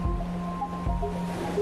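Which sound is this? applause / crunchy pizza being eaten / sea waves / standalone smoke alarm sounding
sea waves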